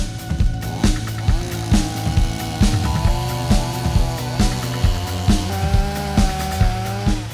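A STIHL MS 230 C gasoline chainsaw runs close by, its two-stroke engine buzzing steadily with repeated rhythmic revving surges and pitch dips throughout.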